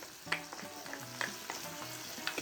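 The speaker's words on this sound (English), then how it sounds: "So I'm going to dump my garlic in." Two tablespoons of garlic sizzle and fry in a skillet for a one-pot BBQ chicken, a steady close crackling hiss with small stirring clicks and pops.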